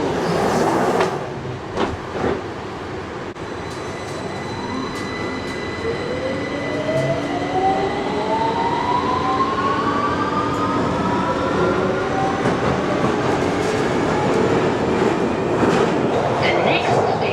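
A London Overground train at a platform shuts its doors and pulls away, wheels and motors rising in a climbing whine while rhythmic clatter builds, with a brief voice early on.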